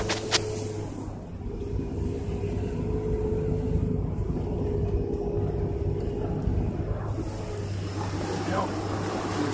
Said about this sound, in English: Got the tracker pulling them out of the forest.